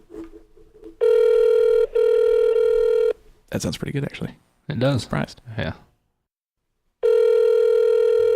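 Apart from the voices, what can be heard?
telephone ringing on speakerphone while calling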